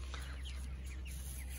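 Chickens pecking at scattered grain, giving soft repeated clucks at a moderate distance over a steady low hum, with no talk.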